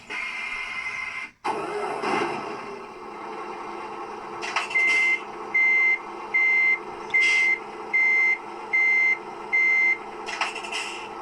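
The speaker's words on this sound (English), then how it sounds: "So when I enable the motor sound, there will be a reverse beep signal." A 3D printed RC Komatsu HM300-5 dump truck with a simulated motor hum running throughout, then a regular series of about eight evenly spaced electronic reverse beeps, clear and close over the engine drone.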